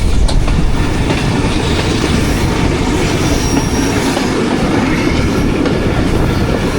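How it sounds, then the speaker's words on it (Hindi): Jaffar Express train climbing an uphill gradient around a curve in hilly country, a loud continuous rumble of wheels on rails with a steady clickety-clack and faint squeal, close and unbroken throughout. "ट्रेन कर्व लेते हुए ऊपर की तरफ जा रही है।"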